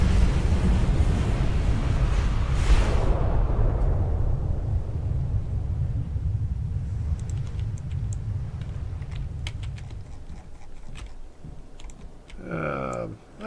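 A warship in Ultimate Admiral: Dreadnoughts explodes and sinks: a loud, heavy roar and rumble that builds in a sharp burst early on, then slowly fades into a low rumble, with faint clicks and a brief flutter near the end.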